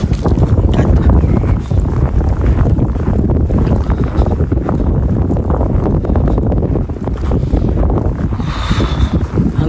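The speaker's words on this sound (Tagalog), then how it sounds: "Grabe, lakas pa ng hangin" Strong wind roars and buffets the microphone during a heavy snow shower, a loud continuous gusting rush with no break throughout.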